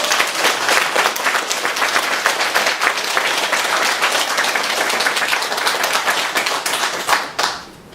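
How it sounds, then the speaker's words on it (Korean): Warm applause from a church congregation at a Sunday worship service, many hands clapping loudly and steadily before cutting off abruptly near the end. "박수, 뜨거운 박수가 바랍니다."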